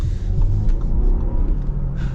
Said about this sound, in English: It is a 4-cylinder though, so you do got to rev it up a little bit.